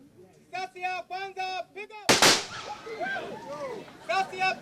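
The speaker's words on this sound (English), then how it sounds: "As a UPDF norm, Lukwago was accorded a 3-gun salute before the casket containing his remains was laid down." A single sharp, loud rifle report from a military gun salute at a UPDF soldier's funeral cuts through the air between bursts of high, wailing voices of mourners crying before and after.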